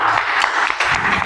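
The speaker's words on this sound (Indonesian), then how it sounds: "tepuk tangan dulu" A short burst of classroom applause, a group of students clapping briefly and unevenly in a room for just over a second.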